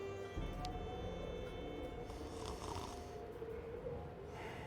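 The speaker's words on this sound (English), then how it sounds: "Snores." A character in the video game Syberia 3 snores faintly, with slow breaths drawn over a steady low hum and soft background music.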